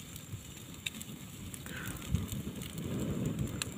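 A large open wood fire roasts village-style chicken skewers outdoors in a breeze, giving a steady low roar with scattered sharp crackles and some wind noise.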